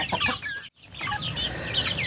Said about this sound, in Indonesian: Ayam diumbar bebas seperti ini ya